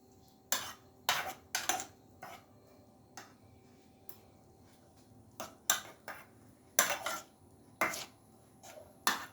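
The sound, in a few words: mixing batter of eggs in a bowl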